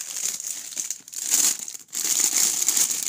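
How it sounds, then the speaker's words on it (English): A small bag of scent samples is opened with close, crinkly plastic rustling that pauses twice briefly. "I have a little bag here, I think, of samples. So I'm just going to open it really fast"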